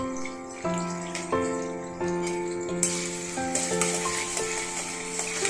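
Carrots and other vegetables fry in oil with a little salt for vegetarian fried rice. Ringing metallic taps of a utensil on the pan come first, then a louder, steady sizzle takes over.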